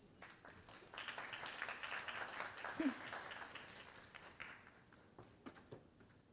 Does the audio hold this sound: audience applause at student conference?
yes